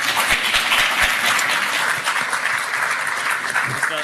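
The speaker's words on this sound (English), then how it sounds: "Big round of applause, please." A conference audience applauds a panel and its moderator with a steady, full round of clapping that lasts the whole stretch, close and fairly loud.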